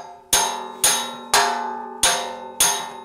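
Five sharp metallic hammer taps at an even pace straightening metal on a bead roller stand, each ringing out briefly before the next strike, close and clear.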